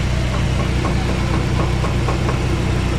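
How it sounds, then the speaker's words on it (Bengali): A repaired vehicle engine idling close by after engine work, with its fan and belt turning: a steady, even low rumble with a continuous hum and no knocking bursts, heard alone without talk. "গাড়ি এত সুন্দর আছে যে কোনো প্রকারের লকিং নেই, হেভি সুন্দর গাড়ি চলতেছে"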